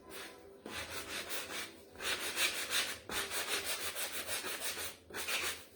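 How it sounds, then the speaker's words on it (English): Wood is sanded by hand with a sanding block in rhythmic back-and-forth strokes, a close, gritty rasping repeated in bursts with short pauses between them. "See what it looks like after I sand it a little bit."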